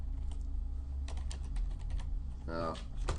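Rapid clicking keystrokes on a computer keyboard, close and moderately quiet, in irregular bursts over a low steady hum, with a brief stretch of talking near the end.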